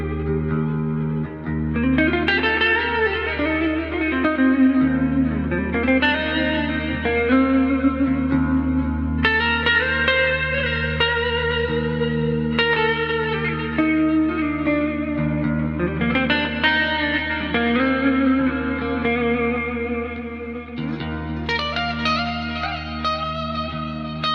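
Clean electric guitar, an Ibanez JEM 77P, playing sustained chords and melodic lines drenched in reverb and echo, steady and fairly loud with no voices.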